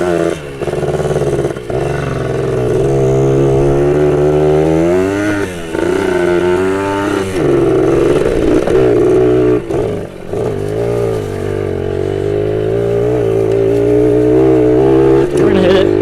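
A motorcycle engine revs loudly and steadily, climbing and dropping in pitch during wheelie attempts, with occasional voices underneath.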